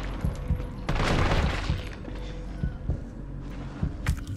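Gunshots ring out in Resident Evil 3, a handful of sharp separate reports spaced irregularly over a rumbling background, with one louder burst of crackling noise near the start.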